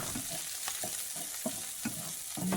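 Corn fries in a pan with a steady sizzle, broken by a few soft stirring scrapes, close by and with no one speaking.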